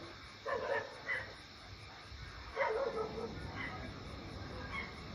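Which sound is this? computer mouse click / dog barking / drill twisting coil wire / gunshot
dog barking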